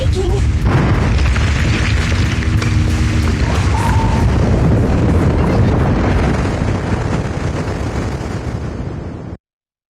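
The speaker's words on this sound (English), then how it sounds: "What's that sound? The ground's shaking." A heavy ground-shaking rumble and booming impact in the video game Zenless Zone Zero, loud and sustained for several seconds before cutting off abruptly.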